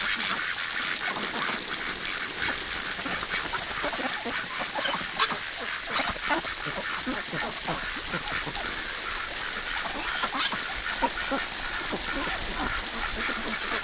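Rouen ducks quack in a dense, continuous chorus of overlapping calls, close and lively, with no pause in the chatter.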